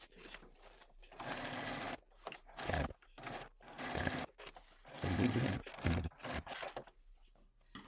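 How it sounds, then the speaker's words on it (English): A sewing machine stitches a bucket bag's lining top and drawstring closure with a 1/2-inch seam allowance, running in bursts of varying length separated by short pauses, close and fairly loud. "we're going to head over to our sewing machine, and we're going to use, again, a 1/2-inch seam allowance around this lining top and drawstring closure"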